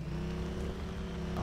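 Boat engine idling in the video game Arma 3, a steady low droning hum with constant loudness and a faint airy wash over it, no voices.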